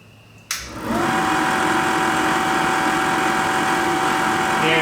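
A Snap-on VR-300 valve resurfacer grinding an engine valve starts with a sudden thump, then spins up into a steady whining motor hum with a harsh grinding hiss that holds loud and constant throughout.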